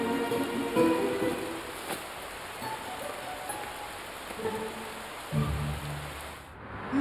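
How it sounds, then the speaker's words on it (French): Rain falls in a French animated children's cartoon, a soft continuous patter of drops on surfaces with occasional light knocks and rustles mixed in at a moderate, fairly quiet level. "la pluie va tomber."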